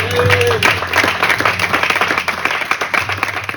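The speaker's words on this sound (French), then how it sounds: "Est-ce qu'on peut acclamer pour la parole de Dieu?" A church congregation claps and applauds together, a dense sustained burst of hand claps close by that tapers slightly toward the end, with some voices mixed in.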